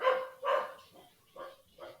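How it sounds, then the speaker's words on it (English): Dogs barking near a home, a few loud barks followed by softer, shorter yips, spaced irregularly with no talk over them. "there goes them dogs again"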